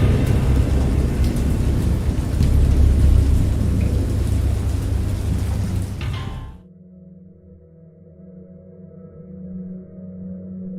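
Heavy rain roars steadily, then cuts off abruptly, leaving a quiet low hum.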